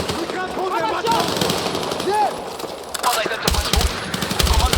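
Bursts of automatic gunfire in the Battlefield 6 mission "Nile Guard", rapid rattling volleys building toward the end, with radio-style voices and battle noise layered over.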